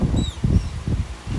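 Lorikeets flap their wings in a zoo aviary, a steady run of soft, close fluttering bursts with faint high chirps above.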